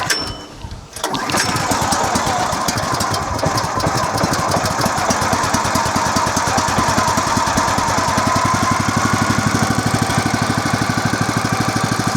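The small gasoline engine on a Woodland Mills HM126 sawmill is pull-started after a brief rattle of the cord, then catches and runs loud and close at a steady, slightly knocking idle.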